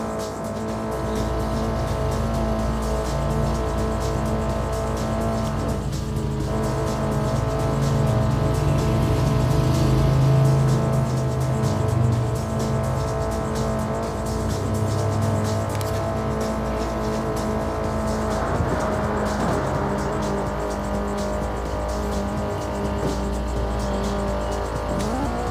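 Car engine in the CarX Street racing game revs and accelerates continuously, a loud sustained whine that rises and shifts in pitch, with brief tire noise.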